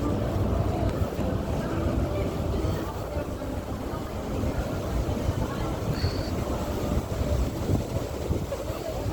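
Strong, steady wind buffets the microphone at Sydney Harbour Bridge, a constant loud roar and rumble across the whole stretch, with harbour water and boat noise blended underneath.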